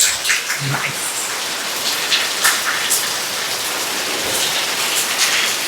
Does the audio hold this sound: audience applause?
no